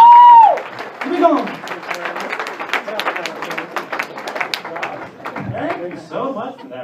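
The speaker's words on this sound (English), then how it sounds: "big round of applause for Mr. Ben Rice, ladies and gentlemen." Applause and scattered cheers from a comedy club audience at the Sacramento Punchline greet a comedian taking the stage, a dense patter of many hands running several seconds, with voices calling out over it near the start and end.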